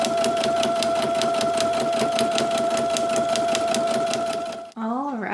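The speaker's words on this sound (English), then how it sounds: "What we're gonna do now is straight stitch all the way around so it becomes one big piece." A sewing machine runs a continuous straight stitch through four layers of fabric, including a heat-protective layer. The whir is steady and fast, and the motor stops near the end, where a voice briefly follows.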